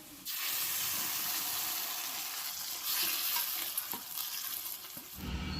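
Spice paste dropped into hot oil in a frying pan, bursting into a loud, steady hissing sizzle that swells midway and fades near the end, with faint stirring clinks.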